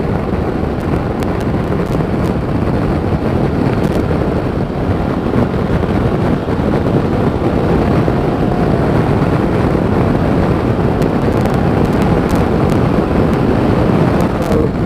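Heavy, constant wind roar buffets the helmet while riding a 2017 BMW F800GSA motorcycle, a dense loud rush that never lets up, with engine drone buried underneath.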